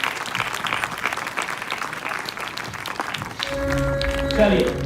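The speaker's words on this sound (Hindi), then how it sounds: "दोनों हाथों के साथ जबरदस्त तालियां" Loud, dense applause at a Modicare leaders' event fills the space, then a voice speaks over it as music swells underneath toward the end.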